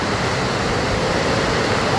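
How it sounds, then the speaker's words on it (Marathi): Amboli waterfall roaring as a steady, dense broadband rush of falling water, close and loud throughout, with no clear voices over it. "पुन्हा एकदा तुम्हाला मी धबधबा दाखवत आहे पूर्ण धबधबा"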